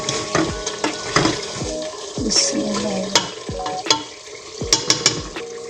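Cauliflower fries and sizzles in chicken curry as it is stirred in a pan, a steady close sizzle broken by repeated scraping strokes and light clanks of the spoon.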